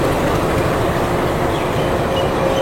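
A passenger train at Santragachi station on the route to Digha gives off a steady, loud low rumble with wheel and carriage noise, continuous and close, with no voices.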